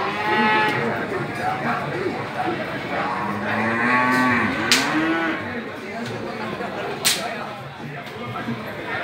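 Limousin cattle moo at a cattle market in Pacitan, several drawn-out bellows rising and falling over a busy background, with people talking in the crowd.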